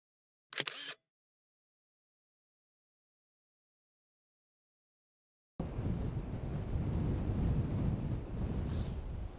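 Strong wind buffeting a photographer at the seashore, rising abruptly into a loud, steady rushing roar on the microphone after one brief camera shutter click and several seconds of silence.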